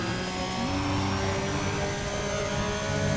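A race car's loud turbo wastegate whooshes in the racing game Need For Speed ProStreet, over a steady engine drone with a hissing high tone and a brief pitch shift, continuous and fairly loud, with no talking.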